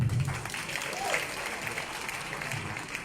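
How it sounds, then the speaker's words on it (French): An audience applauds at a political gathering, clapping that starts loud and eases into a steady wash with some voices mixed in. "applaudissements pour lui."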